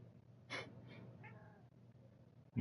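A cat gives a few soft, close meows and breathy mewls in a quiet room, then a louder bump near the end.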